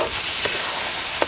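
Potato and gram flour batter being stirred in a pan, a steady soft sizzle with a couple of faint scraping strokes, close and without talk.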